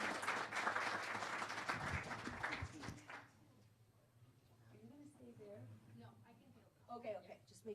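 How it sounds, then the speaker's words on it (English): Audience applause at a secular summit conference, a dense steady wash of clapping for about three seconds that then breaks off, leaving quieter room sound and a few scattered voices. "let's give her another round of applause, please"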